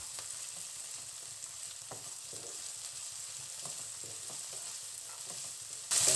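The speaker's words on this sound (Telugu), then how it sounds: "టమాటాను బాగా ఫ్రై చేసుకున్న పచ్చివాసన ఫ్రై అయ్యేంత వరకు చేస్తున్నాను." Finely chopped tomato frying in a pan over onion while palak chicken is cooked at home, giving a steady, close sizzle throughout that swells louder in the final moment.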